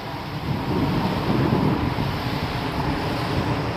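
Ocean waves wash onto a beach in a steady, broad rushing roar with wind noise on the microphone, continuous and fairly close for a few seconds with no voices.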